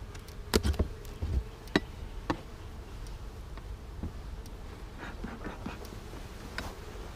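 Honey bees buzzing around an opened hive box during a colony inspection, a steady low drone with a few sharp knocks and taps of frames and equipment near the microphone.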